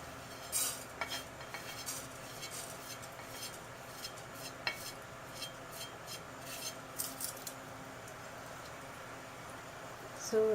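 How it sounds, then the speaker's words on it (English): Cumin seeds and asafoetida heating in olive oil in a pan, a faint steady hiss with light scattered clinks and stirring taps of a utensil against the cookware throughout. "my cumin seed and asafoetida is heating up"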